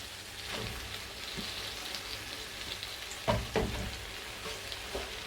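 Mustard greens for sarson ka saag fry in oil as a soft, steady sizzle, with a few scattered pops and stirring clicks, the loudest near the middle, heard close and alone.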